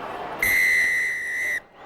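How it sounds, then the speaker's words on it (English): A referee's whistle gives one long, loud, steady blast to start a Scotland versus All Blacks rugby test match at Murrayfield, Edinburgh, over a faint stadium crowd. "And the whistle blows, and the test match at Murrayfield is underway."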